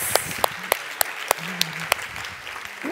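Applause comes as separate, evenly spaced claps, about eight sharp slaps in a slow steady rhythm, close and moderately loud, with faint vocal sounds between them.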